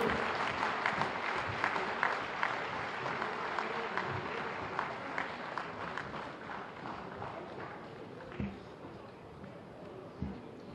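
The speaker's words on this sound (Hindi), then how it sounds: "एक बार जोरदार तालियां इन सभी खिलाड़ियों के लिए" An audience at a Uttar Pradesh Day 2021 ceremony in Lucknow applauds, a dense, steady crowd of handclaps heard from a distance, fairly faint, continuing throughout with a few louder thumps.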